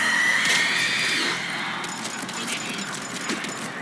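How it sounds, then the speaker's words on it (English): A banshee in Mass Effect Legendary Edition lets out a shrill, rising scream at the start, which fades into noisy combat ambience. "Oh, it screams and then teleports!"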